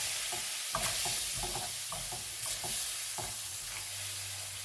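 Meat juices are stirred in a saucepan on the heat, with soft scraping strokes in an uneven rhythm over a faint sizzle, close and fairly quiet.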